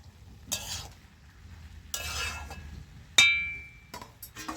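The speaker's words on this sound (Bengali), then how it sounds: "তো ভালো করে আবার নেড়ে চেড়ে ঢাকনা দিয়ে দেবেন।" Shrimp and Malabar spinach curry is stirred in a pan, giving a few separate bursts of scraping and sizzling with a sharp metallic clink of the utensil against the pan, close with quiet gaps and no talk.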